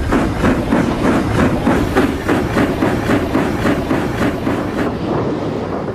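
A train rolls along the tracks with a steady, rhythmic clickety-clack of wheels over the rail joints, loud and continuous, with no voices.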